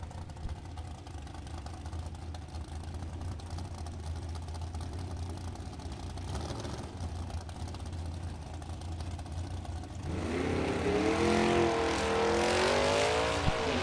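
An '87 Ford Mustang drag racing down the strip at Byron Dragway, a distant engine drone that swells into a louder revving run with rising and falling pitch near the end.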